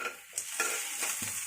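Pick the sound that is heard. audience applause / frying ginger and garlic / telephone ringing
frying ginger and garlic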